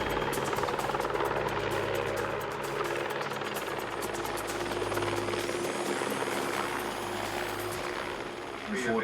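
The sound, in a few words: helicopter engine and rotor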